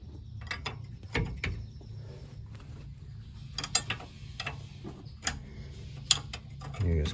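A 19mm socket ratchet working a ball joint bolt loose on a 2012–2016 Hyundai Accent: quick irregular clicks and ticks of the pawl with metallic knocks, close up against a low hum, with a voice speaking at times.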